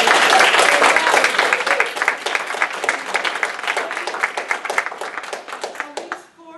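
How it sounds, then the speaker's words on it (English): Audience applauding Faculty Research Award winners at a school of public health ceremony, a dense burst of many hands clapping that thins toward the end and fades out. "Let's give them another round of applause."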